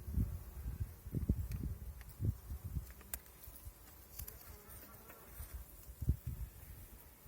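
Low buzzing and humming of many honeybees close by on a hive frame, with irregular swells and occasional soft bumps and rustles.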